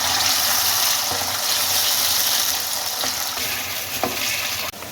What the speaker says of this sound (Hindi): जब ऑयल गर्म हो जाए तो अरबी जिसको हमने धोकर रखा है वो डाल दें इसके अंदर,